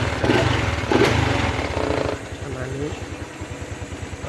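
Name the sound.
Honda Wave 110i motorcycle engine revving with slipping clutch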